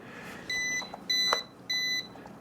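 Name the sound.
Ruko F11PRO 2 drone controller beeping while connecting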